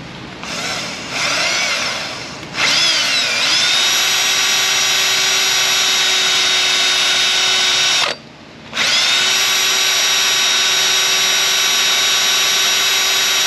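A power drill bores into the exhaust of a Ram 1500 5.7 with a loud, close, sustained high whine after a few short starts, briefly stopping partway and then spinning up again.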